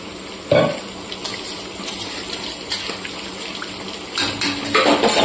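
Spiced water pours and gushes into a pan of fish curry gravy for khoira fish, a steady liquid splash that starts abruptly and runs on, swelling louder toward the end.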